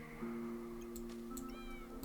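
A cat meows in the Backpack Battles video game, a sustained, fairly faint tonal call that holds steady for most of the moment, with a few light clicks around it and no talking.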